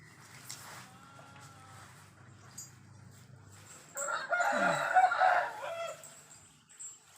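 A rooster crows once at a distance, followed by a louder, closer burst of crowing and clucking.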